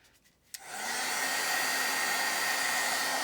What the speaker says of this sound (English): even with the blow dryer, it gets hot and it can burn you